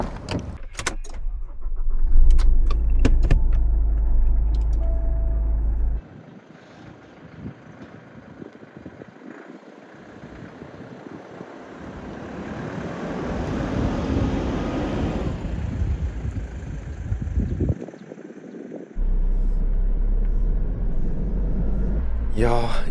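A HAYATE compact cab-conversion camper van pulls away, its engine rumbling low with road and cabin noise that swells and eases as it gets moving. The sound is continuous, close and fairly loud.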